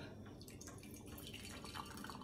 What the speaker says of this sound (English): Using a strainer, I'm going to pour it into the cup.